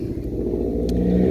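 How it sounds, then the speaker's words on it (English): Steady road traffic from passing cars rumbles nearby throughout, a continuous low engine drone with a slight swell, heard outdoors at a metal detecting site in Pennsylvania with no talk. "sorry about the traffic noise"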